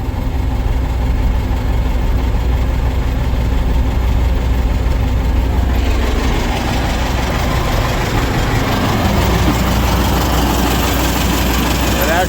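A combine harvester engine idles loud and close, a heavy low rumble running steadily throughout; partway through the pitch and texture shift as it winds up to drive the feeder house.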